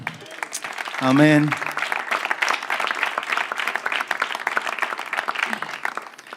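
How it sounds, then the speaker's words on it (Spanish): Church congregation applauding during a sermon, a steady patter of many hands clapping, with a voice briefly speaking over it near the start. "¿Le da un aplauso al Señor?"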